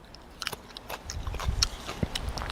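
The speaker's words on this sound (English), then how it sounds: "I love to eat just the little tender greens, just like this." Close, crisp crunching and biting on tender young Malabar spinach greens, a series of irregular bites and chews with no talking.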